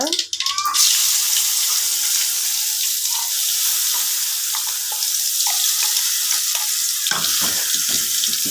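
Loud, continuous sizzling and crackling of parandai (veldt grape stems) frying in hot oil after mustard seeds, close up, steady throughout with a brief clatter near the start.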